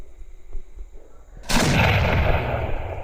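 A Universe firework bursts overhead during Deepavali with a single sudden, loud crack that turns into a long crackling, sizzling spray, following a quieter stretch of faint background noise.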